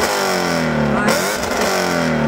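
A 550-horsepower naturally aspirated flat-plane crank V8 in a Shelby Mustang GT350 revs loudly and steadily, its pitch dipping and climbing again, close and dominant.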